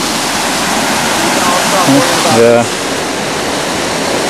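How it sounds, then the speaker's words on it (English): A creek flows in a steady, full rush of water that fills the whole stretch without pause, while a voice speaks a brief word partway through. "we just found the creek and water, so we're probably not gonna dehydrate anymore"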